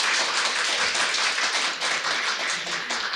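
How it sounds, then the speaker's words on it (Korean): An audience claps at the launch ceremony of Kookmin University's unification education program, a dense and steady wash of many hands that continues loudly throughout. No one speaks. "객석에 계신 청중 여러분들께서도 다시 한번 큰 박수 부탁드립니다"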